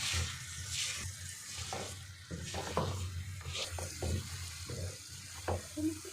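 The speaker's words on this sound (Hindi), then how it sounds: "तीन से 4 मिनट हो गए मुझे पाए भूनते हुए।" Beef trotters (paya) frying with onions in a pan, a steady close sizzle broken by repeated scraping stirs of a spoon against the pan.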